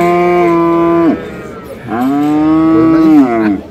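A dairy cow lows loudly at a cattle market, two long, drawn-out moos close by, the second rising and held before trailing off.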